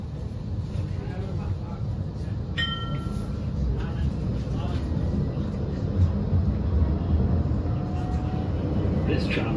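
Aboard a Blackpool tram heading for Fleetwood Ferry, a continuous low rolling rumble carries on steadily, with a brief bright electronic tone near the start.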